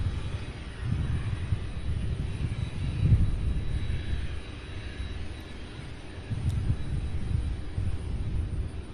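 Boeing 767 arriving from LAX on approach to land on runway 35 left, a low, steady engine rumble that swells and fades a little, heard at a distance without speech.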